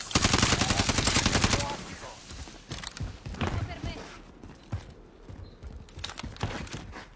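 Rapid gunfire bursts in an online shooter game ring out loud and dense for the first second and a half, then scattered single shots and clicks follow more sparsely.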